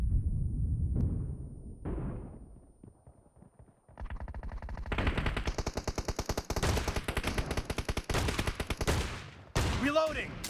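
Shotgun fire in PUBG Mobile during a shotguns-only team deathmatch comes as dense, rapid volleys of loud, close blasts, with brief quieter gaps and a short burst of game-announcer voice.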